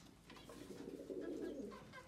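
Pigeons coo softly in a low, throaty burble, one drawn-out rolling call lasting about two seconds, faint and close with no voices.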